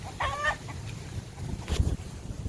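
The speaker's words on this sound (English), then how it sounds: "There's the rooster over there." Rooster on a farm gives a short clucking call, fairly faint and distant, followed by scattered outdoor rustling and a brief thump in the open air.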